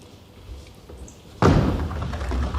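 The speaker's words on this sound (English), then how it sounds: "He is picking up another bowling ball." A bowling ball rolls faintly down the lane at a professional Weber Cup match, then crashes into the pins with a sudden loud clatter that rings and fades over the next second.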